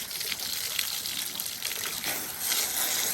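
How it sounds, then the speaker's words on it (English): Steady rushing spray of water from a hose rinsing a snow blower, hissy and continuous, nearby with slight surges in intensity and no voices. "we're gonna rinse it off with a hose"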